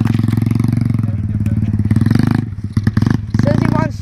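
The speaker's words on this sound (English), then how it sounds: "Doing small wheelies." A dirt bike engine revs hard and steadily, close and loud, as the rider pops small wheelies, with brief throttle dips and clatter in the middle; a voice speaks over the engine.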